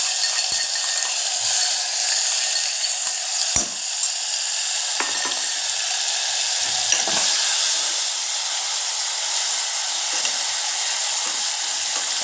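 Ginger, garlic and chili paste with asafoetida frying in hot oil, a steady loud sizzle throughout with occasional faint clinks of a spoon against the pan.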